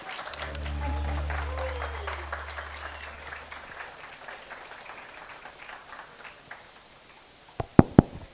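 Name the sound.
applause for young performers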